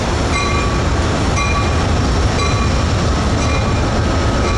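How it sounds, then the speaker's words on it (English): Loud, steady rumble of a moving Amtrak Southwest Chief train with rhythmic rail clatter and faint metallic tones ringing over the noise. "There's another train right there."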